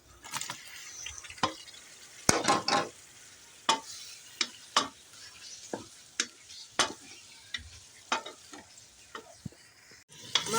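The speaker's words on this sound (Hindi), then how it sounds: "अब हम बीफ भून लेंगे।" Beef frying in a pan for white korma, already-fried spices and ground cashew and almond in with it, stirred with repeated sharp spatula clinks and scrapes over a soft, continuous sizzle, no talking.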